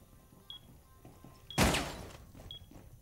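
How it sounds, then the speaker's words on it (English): A proximity alarm in a video game gives three faint, short high beeps about a second apart. A loud, sudden burst like gunfire crashes in between the second and third beeps, then quickly fades back to quiet. "Throwing proximity alarm."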